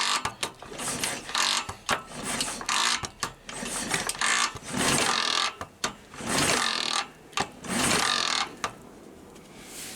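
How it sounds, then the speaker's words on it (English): Triumph Bonneville T140 engine turned over by hand to prime its oil, giving a run of irregular mechanical clicks and ratcheting bursts with short pauses, close and fairly loud, no talking. "I'm going to pump it till we get oil coming out of that little hole there"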